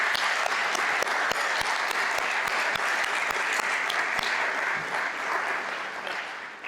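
A round of applause from a conference audience on ocean conservation, steady, even clapping from many hands with a few crisp nearby claps, tapering slightly at the end.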